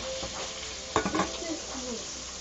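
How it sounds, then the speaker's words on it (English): Seasoned butter sizzles in a hot pan on a stovetop, a soft steady frying hiss with a few brief louder stirring scrapes near the middle, close and alone. "I'm gonna get these butters going back up, because it might sizzle"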